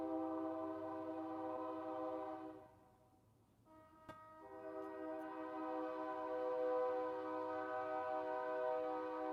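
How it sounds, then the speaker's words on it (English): A train rolls past steadily with sustained horn-like tones, dipping briefly into near quiet midway before the rumble and tones swell back, moderately distant. "I never hear that train this time of day"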